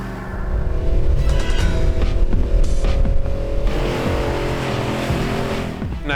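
A Nissan Patrol Y62 4WD engine revs hard on a steep climb at Mt Skene. It roars loudly and close with rising pitch, then holds a steady strained drone through the rest of the run.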